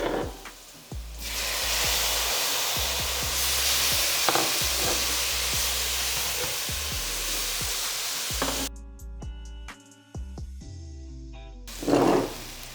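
Tomatoes being stirred into dhal masala frying in a pan for an Indian dhal: steady sizzling with repeated scraping stir strokes, louder bursts near the end.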